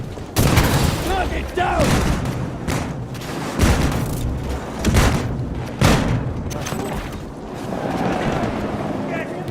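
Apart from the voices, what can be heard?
grenade explosion and gunfire in Battlefield 2042 video game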